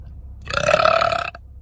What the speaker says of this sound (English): That's what happens when I burp.